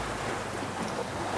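Water rushes steadily past an island reef off a large Australian island, a dense, broad roar of surf and current mixed with wind buffeting the microphone, constant and close throughout.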